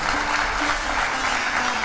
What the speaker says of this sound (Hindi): इसलिए जोरदार ताली अपने लिए बजा लूँ महाराज